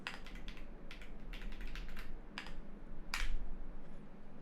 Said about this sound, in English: Now I can just start typing pip install